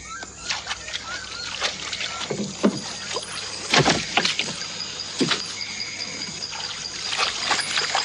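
A rowing boat moving across water, with rhythmic oar strokes, splashes and trickling drips, close and fairly loud against a steady background hiss.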